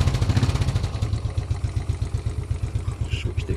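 A Royal Enfield 535 GT Continental with a Watsonian sidecar and Wild Boar aftermarket exhaust runs close by with a loud, throaty exhaust, its rapid pulsing beat steady and heavy.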